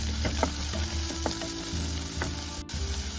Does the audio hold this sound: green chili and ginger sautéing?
yes